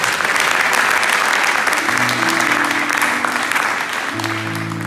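A Sunday church congregation applauds steadily for the glory of God, a thick wash of clapping and cheers with sustained musical tones entering partway through.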